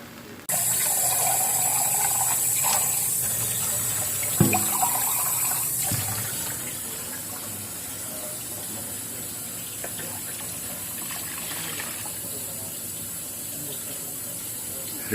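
Tap water pours steadily into a giant cooking container in a home kitchen, a loud continuous splashing rush that holds for the whole stretch, with a brief clunk partway through and no talking.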